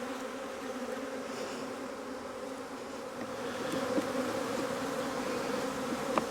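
Honeybees buzzing around an opened single brood chamber hive in spring, a dense continuous drone of many insects close by, with individual bees passing near, no voices.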